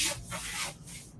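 Sandpaper of standard grit rubbed by hand over a surface, a close, steady scratchy swishing in a few back-and-forth strokes with no talking.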